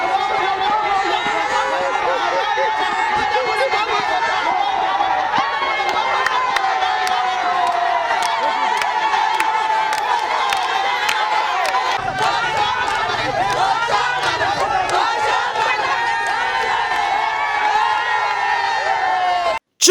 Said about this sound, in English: Senator Comrade Adams Eric Oshiomole's visit attracted a crowd of people who hailed him endlessly